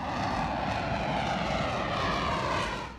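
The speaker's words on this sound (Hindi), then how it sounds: "और इतनी तेज आवाज जेट इंजन्स भी करते हैं" A jet-engine aircraft roars in a loud, continuous, broadband rumble that holds steady and only eases slightly at the very end.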